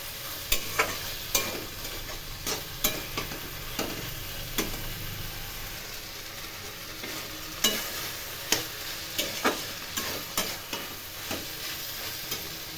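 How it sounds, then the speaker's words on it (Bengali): A vegetable and fish curry is sautéed in a pan, with a low frying sizzle under a string of sharp spoon scrapes and knocks against the pan that come in irregular bursts, with no voices over it. "এখন ভালো করে কষিয়ে নেব।"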